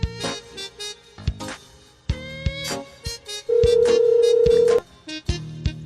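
A phone number is dialed on a keypad, producing a series of short, clear electronic beeps in irregular rhythm, then one longer sustained tone before a few more beeps.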